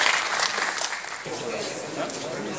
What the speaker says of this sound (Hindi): कृपया मंत्री साहब के लिए एक बार जोरदार तालियां